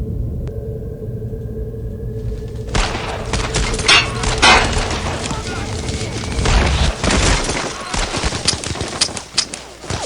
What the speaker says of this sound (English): Keep firing! Don't stop firing!